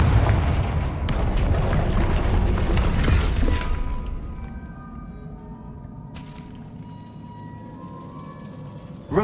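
A Confringo fire spell explodes in the video game Hogwarts Legacy, a loud, booming blast with a rumbling tail that fades out over several seconds, followed by quieter game ambience and a few faint chimes.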